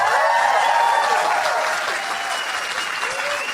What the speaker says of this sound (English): That was a great applause.